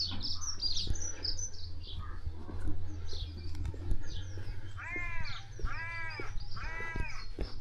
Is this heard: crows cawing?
yes